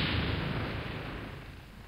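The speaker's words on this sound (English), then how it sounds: "Okay, cannon fire. That's always bad." Cannon fire in the Civil War strategy game Battleground: Antietam: a single broad, rumbling boom that starts loud and slowly fades over about two seconds.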